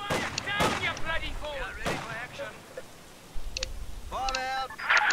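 Short bursts of gunfire and heavy impacts in the Company of Heroes 2 World War II strategy game, Port of Hamburg map, with a machine gun firing among other battle noise, mixed with game unit voices.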